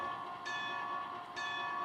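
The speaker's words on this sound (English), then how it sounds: "let's test out the bell." A locomotive bell in a train simulator video game clangs in two strikes about a second apart, each a bright, sustained metallic ring over a steady background hum.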